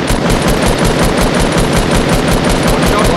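Rapid automatic gunfire in Fortnite, a loud, continuous stream of evenly spaced shots up close.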